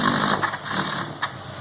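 A cold VW Golf MK2 GTI fitted with motorcycle carburetors is blipped, giving a raspy engine note with a few short throttle bursts over a rough idle, close and loud, with no speech.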